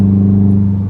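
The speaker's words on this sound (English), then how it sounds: "this is probably the loudest exhaust that I've had on this car so far" A deep, steady exhaust drone from a Subaru STI with a new exhaust held at half throttle, loud and booming with a constant low hum.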